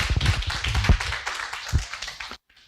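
An audience claps for the presidential candidates at an association election policy forum, with dense clapping that fades out near the end.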